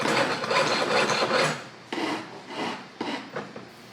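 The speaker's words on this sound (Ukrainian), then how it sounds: "Пиляю, пиляю, пиляю, пиляю." A small hand saw cuts back and forth in a steady rasping rhythm for a long stretch, then continues in shorter, separate strokes; close and fairly loud, with no talking.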